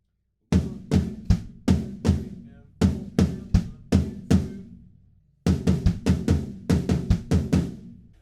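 Rock drum fill closing the bridge of a song, played on a kit with rapid descending tom and snare hits in quick bursts, a short gap, then a second flurry of strokes, loud and close.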